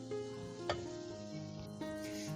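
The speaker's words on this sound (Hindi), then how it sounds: "अब इसमें जो मैंने टमाटो प्यूरी रेडी करके रखी थी वो जाएगी।" Tomato puree goes into a pan of sizzling chicken chilli, with a steady fry hiss and a couple of brief stirring clinks close by.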